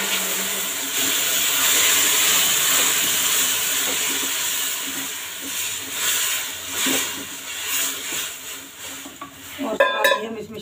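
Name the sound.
aloe vera added to pan with sugar, hissing while cooking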